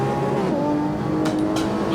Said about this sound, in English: just listen to that engine, man